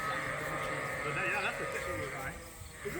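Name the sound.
sheep, rams bleating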